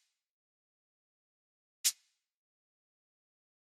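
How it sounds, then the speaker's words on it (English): A single shaker hit for an Afrobeats-style beat, one short crisp bright burst standing alone in silence. "Then the next thing you want to do is to add a shaker."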